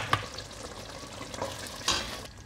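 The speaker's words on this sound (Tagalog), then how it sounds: "Haluin. Para mahalo lahat yung mga ingredients." Pork caldereta sauce with liver spread is stirred in a sizzling pan, brief close scrapes and spoon taps over a low crackle, with no talk.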